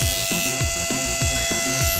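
An Andis SMC five-speed clipper with a worn blade drive ratchets as it runs, knocking against the latch in a steady, loud, close clatter of about six to seven clicks per second over a constant motor hum.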